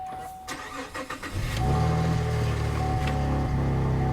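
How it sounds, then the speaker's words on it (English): A 2014 car engine cranks a few times and catches, then settles into a loud, rough, chugging idle with a raspy exhaust note from an exhaust leak. "It's got an exhaust leak."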